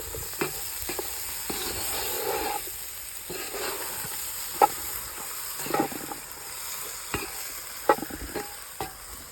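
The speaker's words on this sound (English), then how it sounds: "Stir it up." Chopped onion and peppers are stirred in a Dutch oven over a campfire: a constant outdoor sizzle under scattered scraping and clanking strokes of the spoon, close and moderately loud, without speech.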